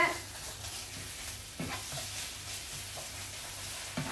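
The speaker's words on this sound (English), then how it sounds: "and then I'll just fry it a little bit." Tomato paste frying in a nonstick pan, a steady close sizzle with a few stirring scrapes of a utensil and no talking.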